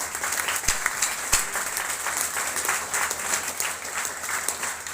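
A sustained, even wash of dense applause from a large audience at an MI Lifestyle business gathering, crowd clapping steady and fairly loud throughout, with no break or voice on top.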